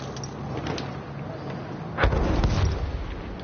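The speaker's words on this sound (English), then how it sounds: "That tank just blew up for some reason." A tank explodes in the Battlefield 1 video game, a sudden deep boom about two seconds in that rumbles on over a busy backdrop of distant battle noise.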